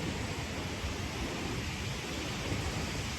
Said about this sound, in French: Je pense que tu dois entendre les bruits des vagues, le vent.